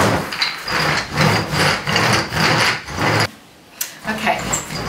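A foot massager is rubbed back and forth over felt fabric in rhythmic, loud, close scrubbing strokes, with a short pause before the strokes resume.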